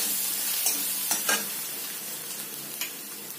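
Mixed vegetables stirred in hot oil in a pan, a constant bright hiss of frying with a few light scraping stir strokes on top, close by.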